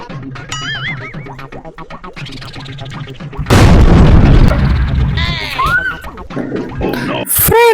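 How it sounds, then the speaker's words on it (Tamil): A sudden loud bang and crackling burst of a firecracker exploding, preceded by voices and followed by shouting and a high-pitched cry. "ஃப்ரெண்ட்ஸ், குறிவெடி வாங்கிட்டு வந்துட்டாங்க."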